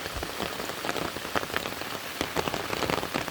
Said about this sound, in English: Hiking out 6:22 in the morning in the rain.